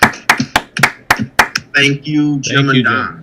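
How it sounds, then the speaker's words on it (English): Around seven sharp, evenly spaced hand claps ring out in a short burst from a few people at a club meeting, then a voice speaks over the tail of the clapping. "I would like a round of applause for Jim Forrester"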